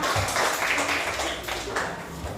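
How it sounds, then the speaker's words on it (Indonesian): A group claps together in a short, busy burst, with the hand claps blending into a continuous patter. "tepuk tangan untuk kita semua"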